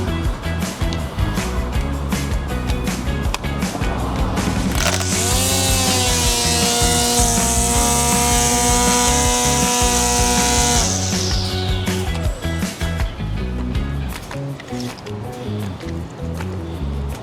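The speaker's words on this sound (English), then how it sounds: "when I start this trimmer up, it's gonna cut that off." STIHL string trimmer revving up near the middle, its whine rising and holding for several seconds as it cuts off excess line, then dropping away, amid outdoor background noise.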